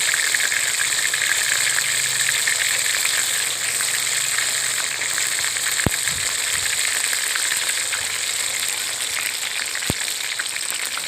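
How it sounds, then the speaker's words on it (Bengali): Lote (Bombay duck) fish pakoras frying in hot oil, a steady loud sizzle throughout with two sharp clicks, no talking. "পকোড়াগুলো এক পিঠ ভাজা হয়ে গেছে।"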